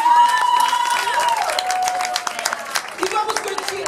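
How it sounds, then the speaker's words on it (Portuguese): Crowd applause and cheering at a lively drag show in a nightclub, loud at first, with a tonal voice or music-like line over the clapping before it thins out. "Aplausos a todas."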